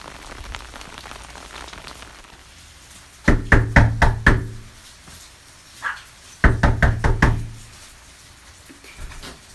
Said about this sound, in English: So I think I'm gonna knock on the door